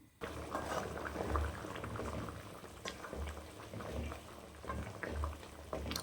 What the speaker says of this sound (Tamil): நல்லா வேகட்டும் இந்த தண்ணியிலேயே